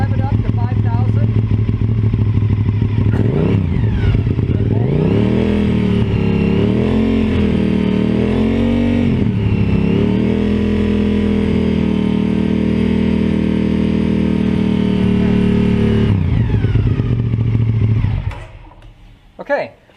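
A motorcycle or ATV engine, being tested for stator AC voltage output, idles and then revs up to about 5,000 rpm. It rises, wavers, holds a loud steady whine close by, then drops back before cutting off.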